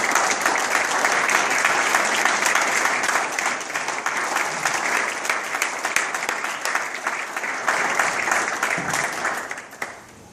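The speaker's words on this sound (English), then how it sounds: "Let's just give a round of applause." A crowd claps and applauds mothers during a Mother's Day speech, steadily for about ten seconds, loud and sustained, then it tapers off at the end.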